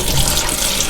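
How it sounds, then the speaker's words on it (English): Tap water runs steadily from a faucet while yellowtail fish is rinsed under it in a kitchen sink, a continuous close hiss and splash with no talking. "after you wash it with fresh water"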